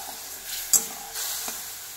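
Spice paste hitting a hot pan for a Bengali prawn and taro-leaf dish, a soft steady sizzle with a quick clatter of a spoon stirring, fairly quiet and close.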